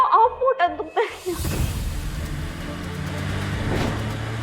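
A car speeds along a road, its engine noise swelling into a steady rushing roar with low rumble after voices speak briefly at the start.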